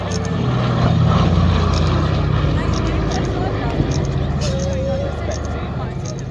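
A historic propeller aircraft drones past at the Headcorn airshow in Kent, its engine a loud, steady rumble that swells and eases while a commentator talks over it.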